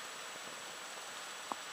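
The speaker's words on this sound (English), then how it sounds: "It's literally pouring it down, for want of a better word." Heavy rain pours down outside a closed window, a faint steady hiss of falling water with a single soft drip or tap near the end.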